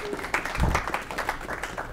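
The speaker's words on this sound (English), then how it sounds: "We're all giving you an applause." A small group at an astronomical society meeting gives a short round of clapping, moderately loud and close, lasting about two seconds.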